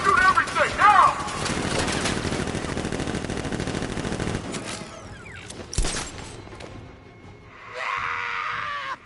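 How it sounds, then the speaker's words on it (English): Guards open fire in Batman Arkham Knight: a dense, loud barrage of rapid automatic gunfire lasts about four and a half seconds, then a sharp burst follows, and a fainter mechanical clatter comes near the end. "Guard! Open fire! Shoot everything, now!"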